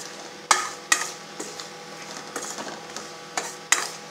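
Banana chips coated in jaggery syrup are stirred in a pan over a low flame, with sharp scraping clacks of the spatula every half second or so over a soft background, no voices.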